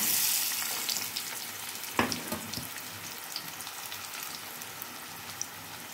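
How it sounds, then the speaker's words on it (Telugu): Onions and green chillies frying in hot oil in a kadai, giving a dense close hiss with a sharp burst as they hit the oil, followed by occasional spoon knocks and a settling, steady sizzle. "వేడైన తర్వాత ఉల్లిపాయలు, పచ్చిమిరకాయ ముక్కలు కూడా వేసేసుకుంటానండి."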